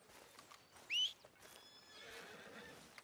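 A horse in the video game Red Dead Redemption gives one sharp, high whinny close by, with soft hoof clip-clops and quiet game ambience around it and no one talking.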